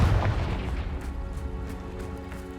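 A Confringo blasting spell fired in the Hogwarts Legacy video game gives a loud, booming burst at the start, and its rumbling tail fades away over the next couple of seconds.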